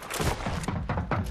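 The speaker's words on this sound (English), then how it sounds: "Somebody else is shooting me." Several quick bursts of gunfire in the Fortnite video game, fairly faint, with about four or five distinct punchy shots spaced irregularly.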